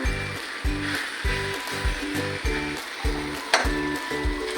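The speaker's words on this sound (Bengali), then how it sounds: "এবার একটু হিলাবো।" Rice being stirred in a hot pan for spicy egg biryani, with a rhythmic, repeated scraping and sizzling of a spoon moving through the grains at close range, roughly twice a second throughout.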